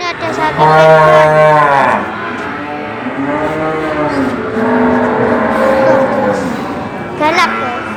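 Pegon cattle lowing at a busy cattle market, with a loud, drawn-out moo near the start followed by further long, wavering moos and a short call near the end, over steady crowd murmur.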